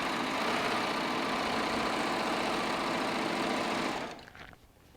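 A Baby Lock Triumph serger runs fast, giving a continuous dense mechanical whir. It stops abruptly near the end, leaving a brief fading rattle.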